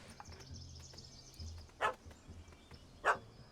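Dog barking in The Witcher 3: Hearts of Stone, two short loud barks about a second apart over quiet ambient game sound.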